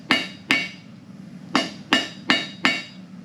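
Hammer blows ring out on 3/8 square steel stock as a taper is forged: six sharp, bright metallic strikes, close and loud, in an uneven rhythm with short pauses between them.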